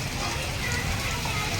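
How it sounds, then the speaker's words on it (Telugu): Steady rain falls in Anantapur, a dense, even hiss of drops on surfaces, close and continuous for the whole short stretch. "సో వర్షమే చూడండి, ఇంకా వస్తూనే ఉంది."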